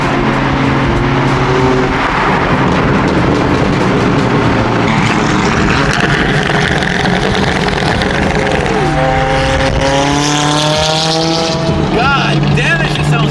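A loud BMW M3 F80 is revved hard, its engine rising and falling in repeated sweeping surges close by. Voices talk over the roar.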